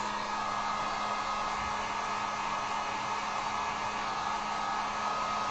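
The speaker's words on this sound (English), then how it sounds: "I'm gonna throw the heat gun on this side just real quick" A heat gun blowing on an acrylic-painted wood sign, giving a steady, close, even motor whir and airflow hiss that holds unbroken throughout, with no voices.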